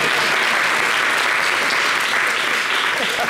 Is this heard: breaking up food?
no